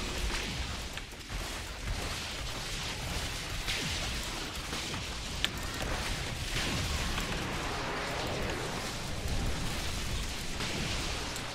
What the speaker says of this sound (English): Just constant area denial by those explosions.